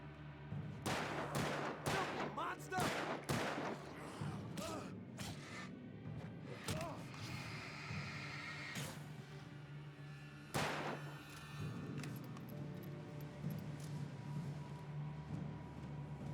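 Gunshots ring out in the horror game Alan Wake Remastered, as a series of sharp cracks, rapid and close in the first seconds, then sparser with one loud shot later, over low ambient game noise.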